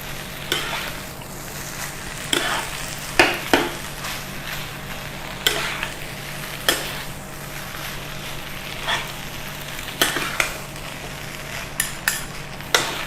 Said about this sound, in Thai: ผัดจนสุกนะคะ ผัดเข้ากันแล้วก็สุกแล้วค่ะ